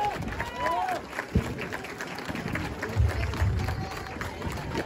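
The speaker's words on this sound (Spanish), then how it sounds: "El aplauso para estos." An audience applauds at an outdoor 5K race awards ceremony, with scattered claps and crowd noise continuing under an announcer's amplified voice.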